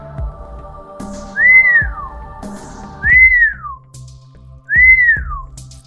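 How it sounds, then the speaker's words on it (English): Three sharp, rising-and-falling finger whistles ring out one after another, evenly spaced and loud, over a quiet low hum. "he put 2 fingers to his lips and let out 3 sharp whistles"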